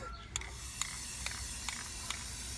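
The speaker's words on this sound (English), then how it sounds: "it's spray paint" Spray paint hissing from a can onto a dual 18-inch subwoofer box, a steady soft hiss broken by several sharp clicks at regular intervals.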